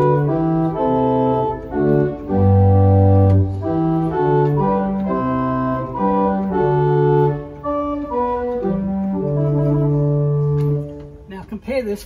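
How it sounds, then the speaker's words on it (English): Open diapason number 2, an 8 foot stop on a Willis pipe organ played at concert pitch, plays a steady sequence of sustained notes and chords with rich, even harmonics, moderately loud and alone in a resonant church. "So I'm going to start with the number 2 open diapason, and it sounds like this."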